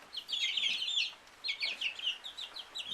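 Five-week-old chicks, among them a Rhode Island Red and barred rocks, give soft rapid high peeping chatters in two short bursts close by. Nobody talks.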